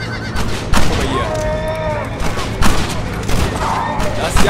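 In Red Dead Redemption: Undead Nightmare, a horse lets out a couple of rising-and-falling whinnies amid loud, repeated gunfire bursts and occasional hoofbeats.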